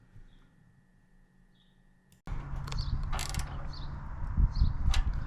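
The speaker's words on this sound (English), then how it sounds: "On the other side, also lift the tank a little bit, turn the bolt in. And fasten it entirely." Wrench ratcheting and metal parts clicking while a bolt is fastened on a Honda CB650R motorcycle, quiet at first and then a louder close run of rapid mechanical clicks and scrapes.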